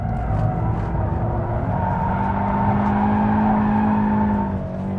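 A Scion FR-S sports car drifts on a racetrack, its engine holding a loud, sustained droning note that rises slightly in pitch, with tyre noise underneath, then eases off briefly at the end.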